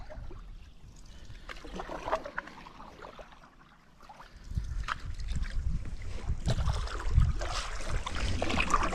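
A canoe moving through shallow river water on the River Spey in the Cairngorms, with soft splashing, gurgling and paddle strokes alongside gusts of wind noise on the microphone.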